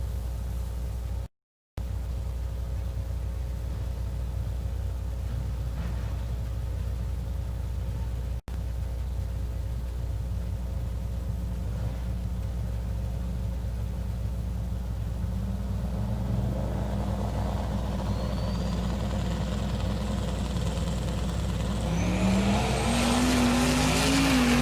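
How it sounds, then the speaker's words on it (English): A big Buick and a turbo Mustang launching in a drag race, first a steady distant engine rumble, then rising roaring engines and a tire squeal building loudly toward the end. "Big Buick in the left-hand lane taking on a turbo Mustang out of the right-hand"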